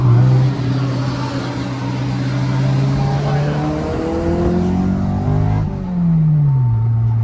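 A Honda car's VTEC engine revving hard from inside the cabin, a loud sustained drone climbing in pitch, then dropping and rising again as it shifts, steady and close.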